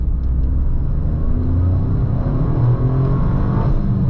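A 2024 Toyota GR Corolla pulls hard at full throttle in second gear from low revs up a steep hill, its engine a loud, close, rising rumble that builds steadily without pause.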